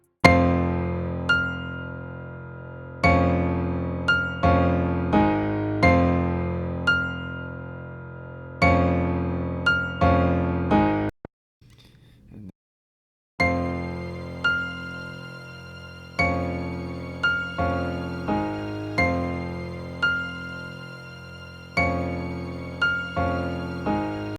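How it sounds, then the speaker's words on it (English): A layered piano melody built from two piano sounds for a jerk beat, with repeated struck chords and decaying notes, steady and full, pausing briefly near the middle before resuming. "I layered that with a piano melody on 2 piano sounds."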